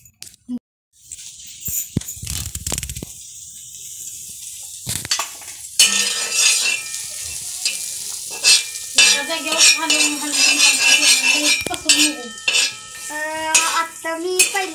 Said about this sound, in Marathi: आता मी पहिल्यांदा मिरच्या टाकल्यानंतर मग जिरं टाकलं